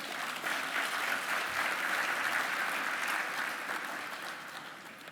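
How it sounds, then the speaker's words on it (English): Broad, sustained applause from a breakfast gathering crowd, many hands clapping steadily at moderate loudness for about five seconds and easing off slightly toward the end. "Give them an applause"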